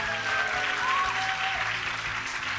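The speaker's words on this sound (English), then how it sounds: "give a cheer for StarTales Bomber" Audience at a DreamHack Summer StarCraft tournament applauding for the Terran player Bomber, steady dense clapping from a large crowd lasting the whole moment, with faint tonal game sounds underneath.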